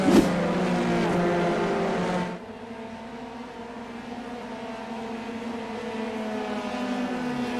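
Formula 3 race cars in a sim racing game at Watkins Glen, with the safety car out on track: a loud, steady engine drone that drops and eases partway through, then holds a lower hum, with no voices.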